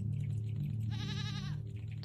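Goat bleating in the video game Rusty Lake Paradise, one wavering, shaky bleat rising in the middle of the clip over a steady low ambient drone.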